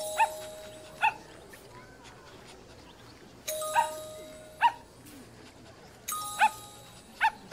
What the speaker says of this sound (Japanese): 犬がいるじゃん。